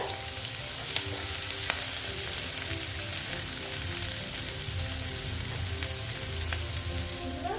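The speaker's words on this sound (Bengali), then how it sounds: "এখন আস্তে আস্তে ভেজে নিচ্ছি পেঁয়াজটা" Onion fries slowly in a pan for ghugni, with an even, dense crackling sizzle close by and occasional soft ticks from the utensil.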